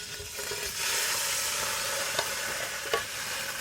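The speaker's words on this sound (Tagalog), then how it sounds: "ilagay tayo ng gata." Instant coconut milk goes into fried sardines in a pan, giving a steady, close sizzle with a couple of sharp utensil clicks.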